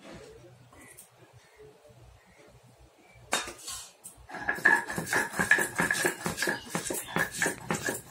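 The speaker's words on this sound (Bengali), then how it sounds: "সর্ষে বেটে বসে গেছি শিলনোড়ায় বাটতে।" Mustard seeds and green chillies ground on a stone slab with a stone pestle: quiet at first, then a steady run of rough, rhythmic scraping and knocking strokes, close and fairly loud, repeating for several seconds.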